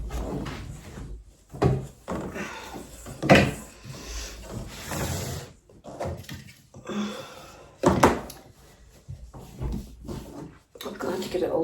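Flat pack IKEA drawers slide in on their runners with repeated thunks, scrapes and knocks at close range, mixed with a person talking throughout.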